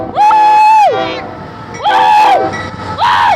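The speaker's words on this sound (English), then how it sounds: "Let's see if he can make us have a horn salute." A Union Pacific freight train sounds its horn in salute while passing, three loud, close chord blasts, the first long and the next two slightly shorter, each ending with a falling pitch.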